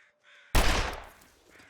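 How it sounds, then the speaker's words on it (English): Crows caw in the snowy wilderness of the video game The Long Dark: faint calls first, then one loud, sharp burst that decays over about half a second, followed by softer distant caws. "Oh, I hear crows."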